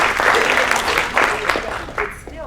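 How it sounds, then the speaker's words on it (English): An audience at a small-business economic mobility event bursts into applause: a brisk, full wash of clapping with a few voices mixed in, swelling and easing over a couple of seconds. "That deserves an applause."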